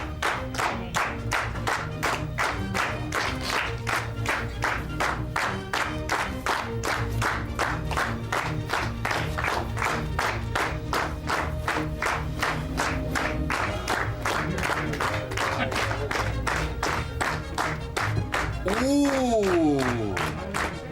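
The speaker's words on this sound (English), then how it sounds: "A little bit of clapping would be very good today." A studio audience at a 1984 wrestling talk show claps steadily for about twenty seconds, a dense continuous patter of hands; a voice briefly rises over it near the end.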